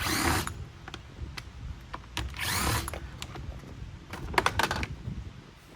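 A Phillips screwdriver backs screws out of the bottom plate of a Bissell CleanView Rewind Swivel vacuum, with close ratcheting scrapes, clicks and plastic rattles in short bursts.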